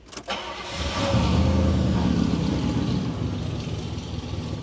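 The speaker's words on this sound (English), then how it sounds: "Let's start her up." A classic convertible car's engine is cranked with a brief starter whir, catches and settles into a steady, close, fairly loud idle.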